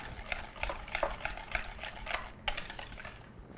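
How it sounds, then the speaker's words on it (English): Pumpkin pie filling being stirred in a bowl for a healthy whole grain crust pie, with a steady series of soft scraping, tapping strokes of the utensil against the bowl, close and fairly quiet. "Just mix this right up."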